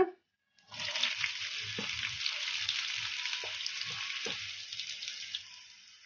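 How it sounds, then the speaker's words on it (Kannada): Chopped onion frying over a medium flame in a pan for a kabuli chana curry, a steady close sizzle starting about half a second in after a brief pause, with a few soft stirring knocks underneath. "ಈಗ ಕಲಸ್ಕೊಂಬಿಡೋಣ ಇವನ್ನೆಲ್ಲ ಮೀಡಿಯಂ ಫ್ಲೇಮಲ್ಲೇ ಫ್ರೈ ಮಾಡ್ಕೋಬೇಕು"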